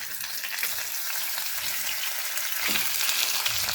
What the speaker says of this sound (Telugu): ఇప్పుడు ఇటువైపు కూడా ఫ్రై అయిపోయి ఒకసారి చూసుకుందాం.